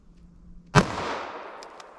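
A single sharp .45 ACP pistol shot fired into clear ballistic gel, a loud close crack followed by a fading ring-out, with a faint metallic tick or two afterward and near silence before the shot.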